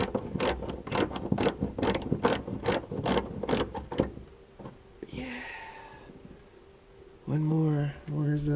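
Ratcheting clicks in quick bursts during interior trim installation in a 1966 Chrysler 300, loud and close for the first four seconds, then quieter handling noises and a short voice near the end.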